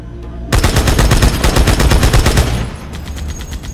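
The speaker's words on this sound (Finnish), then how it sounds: "Verrakkaapa vaikka huviksenne tätä konekiväärin papatusta" Rapid machine gun fire from the Halo video game, a loud, fast stream of closely spaced shots lasting about two seconds, then cutting off into a lingering echoing tail.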